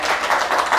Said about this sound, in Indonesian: Coba tepuk tangannya.